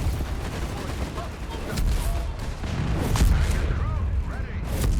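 Explosions and gunfire on a Company of Heroes 3 battlefield with mortars and machine guns, a steady din of thumps, bursts and rattles with a few sharper blasts, under a commentator talking throughout.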